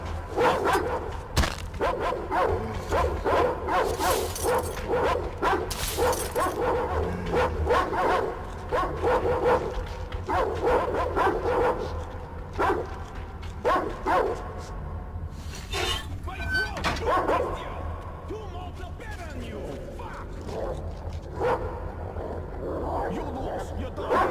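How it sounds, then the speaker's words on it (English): A dog in the game Metro Exodus barks repeatedly and whimpers in short bursts, with people talking throughout and occasional clatter in the background. "Down, dog! Only bark!"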